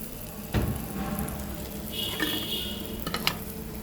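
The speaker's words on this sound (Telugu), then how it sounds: "నూనె వేడి అయిందమ్మా, పచ్చిమిరపకాయలు వేసుకుంటున్నాను." Green chillies frying in hot oil, giving a steady close sizzle with a few stirring knocks and scrapes in the pan.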